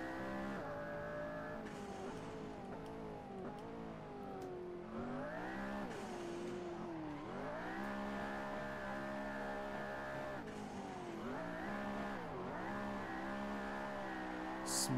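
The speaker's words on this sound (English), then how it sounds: "Smoking the tires." A McLaren P1 in the racing game Assetto Corsa howls through continuous engine revs and gear changes on a night circuit, with tires squealing and smoking, loud and unbroken throughout.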